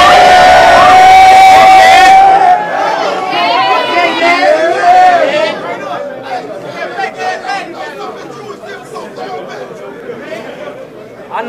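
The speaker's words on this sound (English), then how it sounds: "crowd going crazy" Crowd at a rap battle erupting in loud cheering and whooping, very loud at first then settling into lively chatter and shouts as the noise gradually fades.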